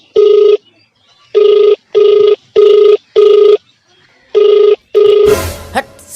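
A telephone rings unanswered in repeated bursts, about seven rings with short gaps, loud and close, before a clattering handling noise at the end.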